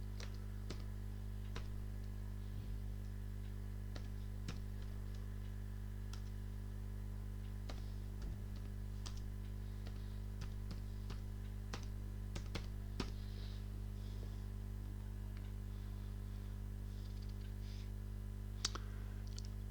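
Sparse, soft computer keyboard clicks tap out irregularly over a steady low electrical hum, quiet and somewhat distant.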